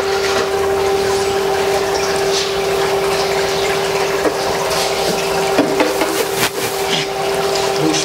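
Water flowing through a model river with a culvert, a loud continuous rushing gush under a steady pump hum, with faint splashes and no clear talk.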